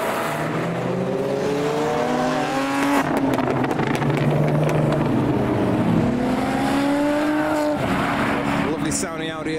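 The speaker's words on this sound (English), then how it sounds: "Lovely sounding Audi S4." An Audi S4 drives through a car show, its engine note rising and falling as it revs and passes close by, with voices and crowd chatter over it.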